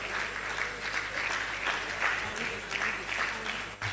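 Guests at a law college inaugural dinner applaud a Senior Advocate invited to give the dinner speech, producing a soft, steady patter of clapping heard from some distance in a reverberant hall.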